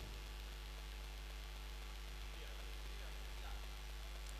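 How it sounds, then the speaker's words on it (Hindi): Electric fans, with a generator also running, fill a gathering with a steady low hum and broadband noise. The drone stays constant and unbroken throughout. "पंखों का बहुत ज़्यादा शोर है।"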